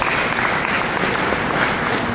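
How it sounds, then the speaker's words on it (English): A conference audience at a talks event gives a round of applause, a dense, loud, even burst of many hands clapping together for a couple of seconds. "Okay, round of applause."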